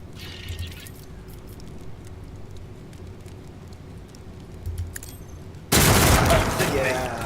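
Loud burst of gunfire from a squad in the turn-based game Warhammer 40,000: Rogue Trader erupts near the end, a dense roaring volley after a quiet stretch of low ambient hum and faint clicks.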